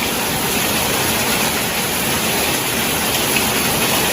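Heavy tropical rain pours steadily over Kuta Alam in Banda Aceh, a dense, loud, unbroken hiss of downpour with no voices.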